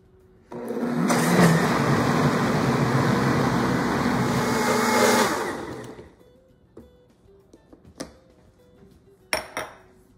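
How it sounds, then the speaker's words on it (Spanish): A blender grinds a fruit mixture with gelatin for a mosaic gelatin dessert with fresh fruit. The steady, loud motor roar runs for about five seconds, then cuts off, leaving a few faint clinks. "le vamos a agregar la grenetina en lo que la licuadora está moliendo para revolverlo muy bien"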